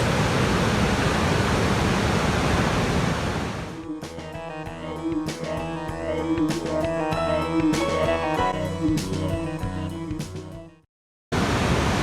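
Steady broadband rush of water pouring over the weir at Teddington Lock on the River Thames, loud and continuous, then giving way to softer layered tones before cutting to silence.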